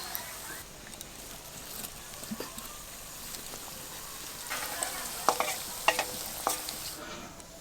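Vegetable chops deep frying in moderately hot white oil: a soft, steady bubbling sizzle, with sharper pops and utensil clacks growing louder toward the end.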